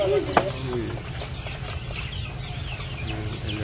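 Farm chickens clucking in a village poultry farm, several birds cackling together at close range over a steady low hum, with a louder squawk near the start.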